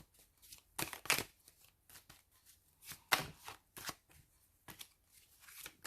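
Tarot cards are riffled and shuffled by hand in bursts of soft, crisp flutters spread over several seconds, quiet and close, with short pauses between shuffles.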